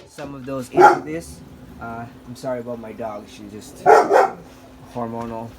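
A pet dog barks near a pleco breeding tank setup, two loud bursts of sharp barks with yips, heard under and between a person's ongoing talk.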